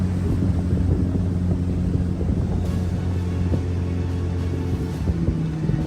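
A speedboat engine drones steadily and loudly on the Chobe River, mixed with rushing water and wind buffeting, with no voices.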